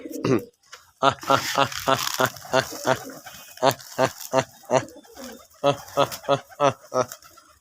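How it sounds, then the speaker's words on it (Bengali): Native domestic pigeons coo in soft, throaty bursts one after another on a pigeon farm, fairly close, with someone talking among them. "দেখেন আমার দেশি কবুতর খামার"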